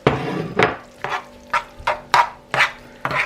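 Boiled pasta is tossed in a pan for Italian basil pasta, heard as a rhythmic series of about seven sharp scrapes and clatters from stirring against the pan, close up with a faint sizzle between strokes and no talking.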